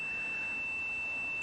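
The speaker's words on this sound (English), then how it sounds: "so if we connect it to the other lead, other end of the jumper, and we get that buzzing sound" Continuity buzzer of a multimeter sounding as its probes connect across both ends of a wire jumper, a faint steady high electronic tone held alone for the whole moment.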